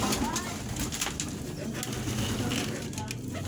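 A flock of pigeons coos steadily and close by, a dense, continuous murmur of soft throaty calls.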